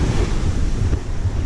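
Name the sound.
rough surf and wind on beach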